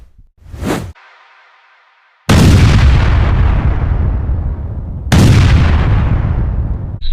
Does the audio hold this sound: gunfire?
yes